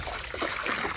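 Liquid treatment pours into a koi pond, a brief, steady trickle and splash of water, close and continuous, with no voices.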